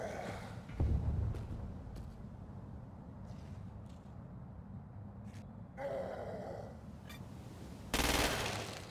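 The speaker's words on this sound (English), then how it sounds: "Use precision targeting to shoot the freak's head or legs." Gunfire in Crackdown 2 as freaks are shot with precision targeting: short bursts of shots break out at a few moments over a low, steady game background, each burst sharp and fairly loud.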